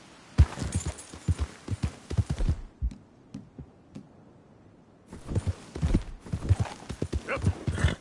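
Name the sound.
horse hooves galloping in the video game Red Dead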